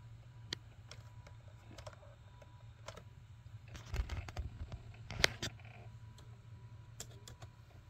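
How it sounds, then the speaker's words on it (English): The hard drive of a vintage 1990s laptop booting Windows 98 rattles faintly, with scattered clicks and ticks over a low hum, some sharper taps clustering near the middle, close but quiet. "Hear the hard drive rattling."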